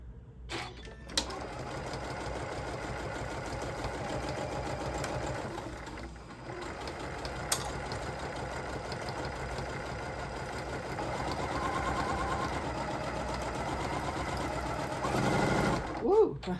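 Sewing machine stitching a bag in green thread, running in a steady continuous whir close up with brief pauses and a few sharp clicks, while someone talks over it.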